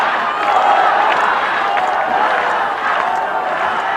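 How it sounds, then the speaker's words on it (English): A wrestling crowd at FMW King of Deathmatch 1999 chants in a steady, rhythmic roar that swells and dips slightly, heard from within the arena without any clear commentary over it. "Sounds like they're yelling Toyota, Toyota."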